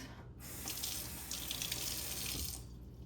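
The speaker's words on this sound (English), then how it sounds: "Let me wash my hands." Hands washed under a running kitchen sink tap, a steady close splashing gush of water that starts after a brief pause and fades out near the end, with no voices.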